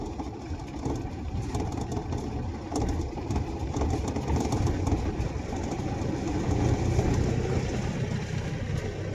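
A vehicle's engine labours steadily under load in fourth gear on an uphill road stretch, a continuous low droning strain heard from inside the vehicle with no talk.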